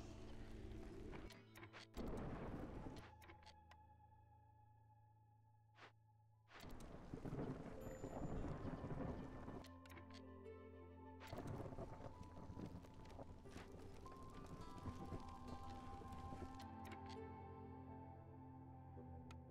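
Game-world storm in Against the Storm, with a rumbling thunder-and-rain wash in broad noisy bursts that swell, drop away briefly and return under layered music, no talking.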